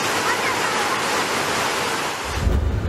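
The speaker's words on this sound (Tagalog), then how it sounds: "Walang tigil ang pag-ulan sa probinsya" Heavy typhoon rain pours down over a provincial residential area, a dense, steady roar of falling water throughout, with a deeper rumble of wind or runoff swelling near the end.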